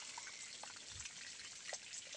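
Faint irrigation water running through a grape vineyard, a soft continuous trickle and gurgle with a few small drips and splashes, quiet and close.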